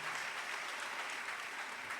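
A congregation at a thanksgiving service gives steady, dense applause with no breaks, heard at a moderate distance and fairly faint.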